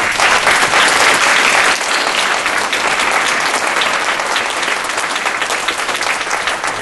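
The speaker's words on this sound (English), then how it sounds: "we need to give him one more big round of applause" A large audience at a regional planning summit award ceremony applauds an honored commissioner, a dense, steady wash of many hands clapping that stays loud and close throughout without letting up.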